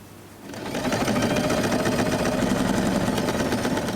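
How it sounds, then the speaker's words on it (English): A sewing machine stitches a straight seam along folded satin fabric for a long-tail scrunchie, starting after a short quiet moment and then running as a steady, close, rapid mechanical whir with no talk. "fold it in half and sew a straight line"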